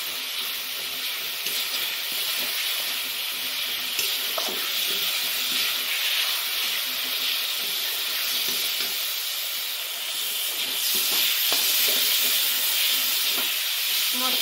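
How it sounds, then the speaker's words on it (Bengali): Ground masala with Kashmiri red chilli powder and pounded green and dried chillies frying in a pan for a mustard katla fish curry; a loud, continuous steamy hiss and sizzle held throughout without letup. "ভালো করে কষিয়ে নেব।"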